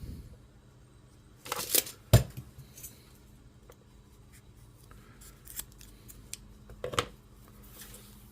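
Scissors snip through cord for an Apex 2TC tree saddle, where heat-shrink-covered lengths are being cut to 30 inches. A few crisp, close cuts land in quick succession, then a lone snip follows after a quiet pause, with no talking.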